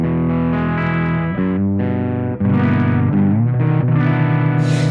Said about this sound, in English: And that's the clean sound from the pitch bay.